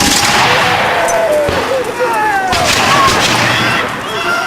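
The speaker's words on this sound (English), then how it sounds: "And the British artillery fire into the..." British artillery and musket fire boom and crack at a Guilford Courthouse battle reenactment outdoors. The loud, rolling reports are heard over constant crowd noise and nearby voices.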